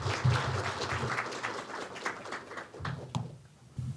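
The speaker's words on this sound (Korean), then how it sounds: "남태우 교수님을 뜨거운 박수로 환영해 주시길 바랍니다." An audience at a Korea Gas Corporation forum claps to welcome Professor Nam Tae-woo to the stage, a moderately loud wash of hand claps that thins out toward the end, with a brief voice-like sound early on.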